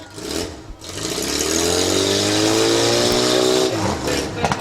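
A demolition derby car's engine at a firemen's festival derby revs and strains continuously for several seconds, its pitch climbing and then dropping off, loud and close beneath an announcer's voice.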